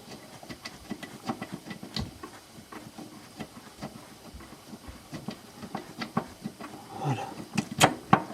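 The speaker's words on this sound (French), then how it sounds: "Donc on va desserrer tout ça." Wrenches work loose bolts on the gearbox mount of a Mercedes C200 CDI, producing a series of metallic clicks and ratcheting taps, irregular and close, growing busier near the end.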